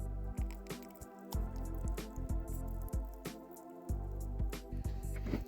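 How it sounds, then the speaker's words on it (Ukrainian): Pumpkin puree being stirred into donut batter made with melted butter, giving repeated soft wet squishing and dripping sounds at a close, steady pace with no talking. "Далі додаю сюди гарбузове пюре."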